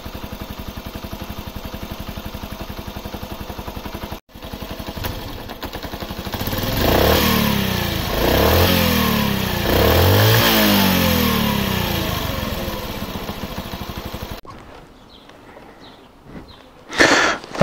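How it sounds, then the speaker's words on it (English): A 2000 Honda C50 step-through motorcycle with electric start and four-speed gearbox idles steadily, then revs in several rising and falling bursts, and finally drops back to a lower, quieter idle before a few clunks, heard close up with no talking. "I'll cut to the sound of the bike on idle and the sound of the bike revving also"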